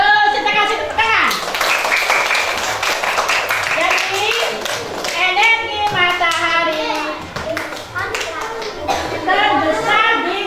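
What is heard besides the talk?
classroom children clapping hands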